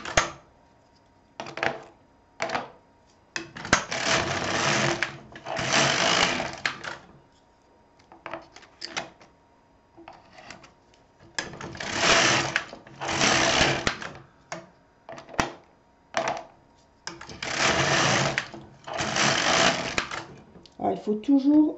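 A Silver Reed LK150 knitting machine carriage is pushed back and forth across the needle bed knitting rows, giving repeated bursts of rattling, clacking sweeps separated by quiet pauses, with brief speech between passes.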